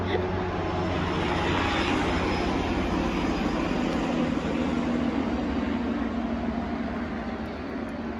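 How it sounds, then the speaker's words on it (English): A steady, loud low rumble of a helicopter flying overhead, constant throughout with a droning engine hum and no talking. "Just hold on till the helicopter goes by."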